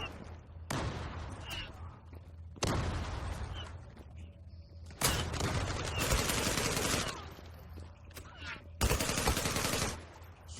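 Bursts of automatic gunfire in the shooter game Zula, with several loud rapid volleys separated by short quieter gaps and nearby combat effects.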